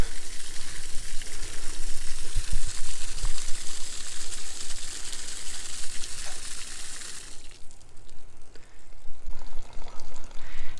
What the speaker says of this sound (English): Just had a water hose explode behind me.